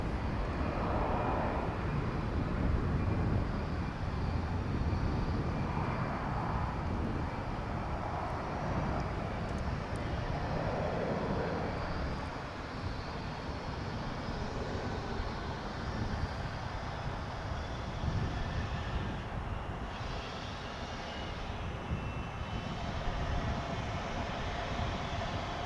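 A Delta airliner taking off at Dallas/Fort Worth Airport, bound for LAX: a steady, broad, distant jet roar holding for the whole stretch, slowly easing and thinning toward the end.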